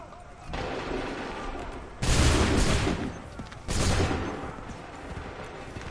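Massed musket volleys in the video game Assassin's Creed 3 roar out as two loud, sustained bursts of gunfire, each lasting over a second, over a background din of shouted orders.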